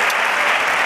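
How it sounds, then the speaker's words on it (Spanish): Standing audience applauding a carnival quartet's semifinal performance in the Palacio de Congresos at Mérida's Carnaval Romano, with dense sustained clapping from a large crowd, loud and continuous. "El público en pie aplaudiendo en el Palacio de Congresos"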